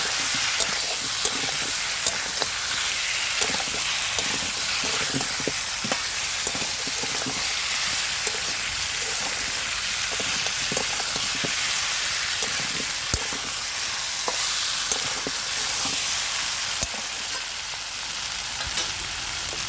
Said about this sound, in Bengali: মাংসের সাথে আলুটাও ভালো করে কষিয়ে নেব।